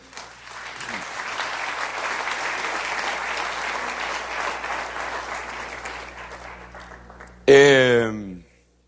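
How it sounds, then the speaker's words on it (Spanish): Church congregation applauding during a service, a broad, sustained wash of clapping for several seconds that fades, followed by a brief loud voice at the end. "Dele un aplauso al Rey bendito"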